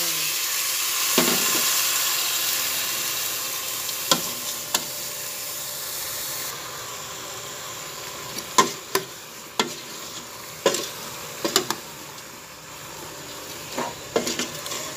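Pork bones frying in a pot for sinigang, with soft steady sizzling and several sharp clinks and scrapes of a spoon being stirred against the cookware, close and clear with no talking.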